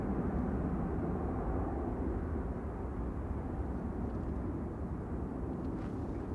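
An airliner arriving from Madrid descends to land at Manchester Airport, heard as a steady, broad roar of jet engines with no voices, holding at a constant level throughout.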